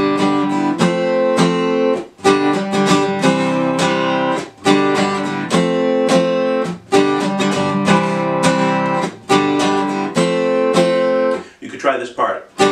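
An acoustic guitar plays an up-down strumming pattern, with steady, evenly spaced chord strokes and brief muted gaps. A voice is heard briefly near the end.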